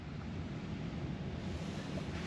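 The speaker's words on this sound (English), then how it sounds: "listening to the waves coming in" Ocean waves come in on a beach, heard from a camper van after a gale has died down: a steady, continuous wash of surf with light wind noise.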